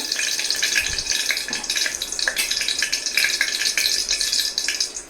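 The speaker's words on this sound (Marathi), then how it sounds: "तूप ऍड केल्यानंतर आपण त्यात मोहरी ऍड करतोय" Mustard seeds dropped into hot ghee in a pan for dal fry, a steady bright crackling sizzle with scattered pops throughout, close and fairly loud, no voices.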